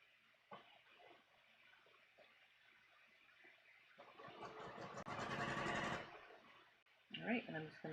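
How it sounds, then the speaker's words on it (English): A sewing machine stitches a bodice muslin in short runs, whirring quietly at first and then louder and steadier for about two seconds, with a brief burst again near the end amid pauses. "I'm just going to sew this all the way to the top."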